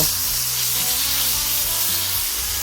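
Pork chops frying in a pan give off a steady, loud, close sizzle, a dense crackling hiss that runs unbroken throughout with no voices.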